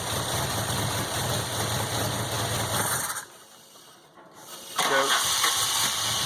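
A VW Golf GTI MK2 engine converted to motorcycle carburetors runs at a loud, rough idle, drops away to near silence partway through, then catches and picks back up.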